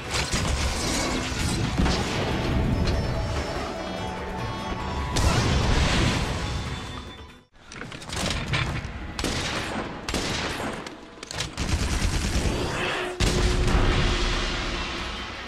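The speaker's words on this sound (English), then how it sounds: "with its ability to fire off bone-breaking shells to blast a monster" A gunlance in Monster Hunter: World fires explosive bone-breaking shells at a monster: a dense run of loud, booming blasts and mechanical clanks over about fifteen seconds, broken by a brief near-silent gap midway.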